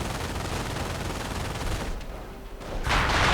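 Rifle and machine-gun fire from riflemen in a real-time strategy game battle, a dense continuous fusillade with a brief lull before it swells louder again.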